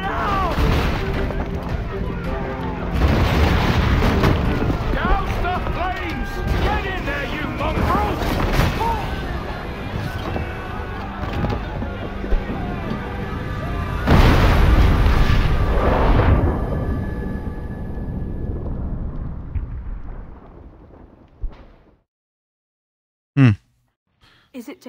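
Ship cannons fire in a naval battle in Assassin's Creed IV Black Flag. Deep booms and rumbling blasts roll on loudly for about twenty seconds, with some voices mixed in, then die away into near silence with a couple of sharp clicks.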